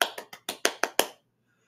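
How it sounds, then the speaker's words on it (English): Seven sharp claps in a quick, slightly uneven run, crisp and close, then silence. "they stood back and clapped their hands"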